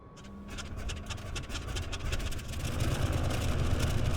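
A Junkers F13 radial engine starts up in Microsoft Flight Simulator, with a steady low rumble and rattle that builds gradually and grows louder through the clip.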